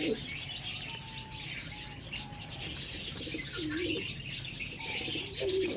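Pigeons coo softly at close range, with chirps and occasional wing flaps over a busy outdoor background hum.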